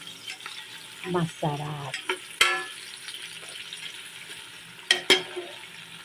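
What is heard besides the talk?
sautéing garlic and onion in a pan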